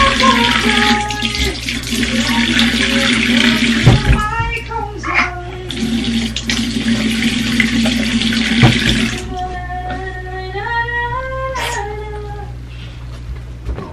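A child rinses their mouth at a sink. The tap water gushes in two long stretches, and high-pitched childish vocal sounds carry on over the water and after it stops.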